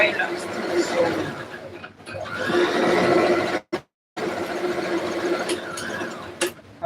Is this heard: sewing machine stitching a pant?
yes